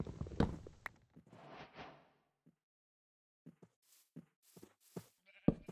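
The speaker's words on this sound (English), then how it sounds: "I haven't seen a pink sheep in 116 in ages." A pink sheep in Minecraft version 1.16 bleats once, fairly close, followed by a short quiet gap and then scattered light game footsteps and clicks.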